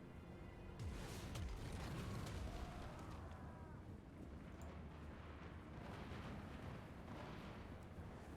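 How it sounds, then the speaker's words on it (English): Cannons and artillery boom in a Dwarfs battle game, a dense, rumbling barrage of distant blasts under shouting voices, fairly faint and continuous across the clip. "that's a lot of firepower being brought to bear against us"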